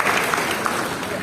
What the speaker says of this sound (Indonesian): Boleh tepuk tangan yang paling meriah dulu.